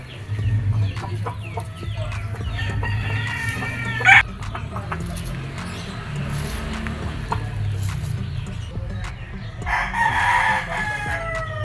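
Gamefowl rooster of a backyard-bred line in Barangay Kayumanggi, Lipa, Batangas, crowing; several crows and clucks sound at moderate distance, one sharp crow near the middle and another longer crow late, over steady low farmyard hum.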